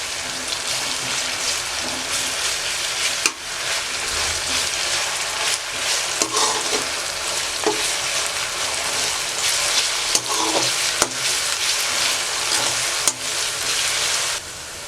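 Loud steady sizzling of garlic ginger paste frying in hot oil, with occasional scraping clicks of a spoon stirring the pan.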